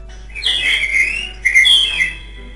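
A thrush sings loud, clear whistled phrases close by, two bright warbling bursts separated by a short pause.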